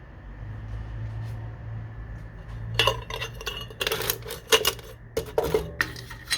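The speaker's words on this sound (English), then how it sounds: "cutlery fits in here," Metal cutlery clinks and rattles as it is packed into a compact alcohol burner and stand kit, starting after a quiet lead-in and continuing as a run of close, sharp jangles and taps.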